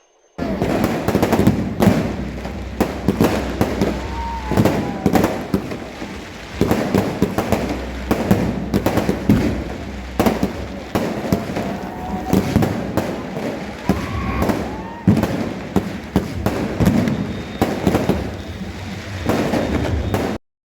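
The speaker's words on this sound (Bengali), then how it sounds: "প্রত্যেকটা হোটেলের সামনে সবাই টুবড়ি জ্বালাচ্ছে বোম ফাটাচ্ছে বাজি ফাটাচ্ছে" Firecrackers and fireworks bursting in front of beachside hotels in Digha on New Year, a dense, continuous crackle of repeated pops and bangs with a crowd murmuring beneath.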